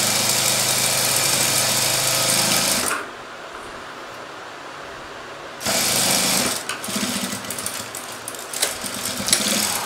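A sewing machine runs in steady bursts while double-stitching the finishing seam of a cross-cut blouse, with a loud continuous whir, a pause of about three seconds, then the motor picking up again.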